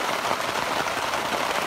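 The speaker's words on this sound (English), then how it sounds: "And it's raining." Steady rain patters down on a surface, a continuous close hiss with no voices.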